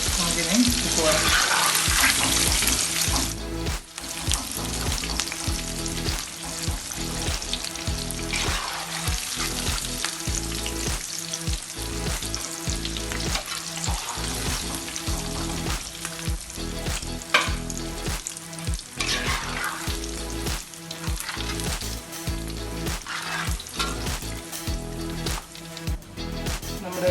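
Pieces of chicken fry with a loud continuous sizzle in a hot pan, stirred and scraped repeatedly for Kerala-style Nadan chicken fry, close and steady throughout with no voices.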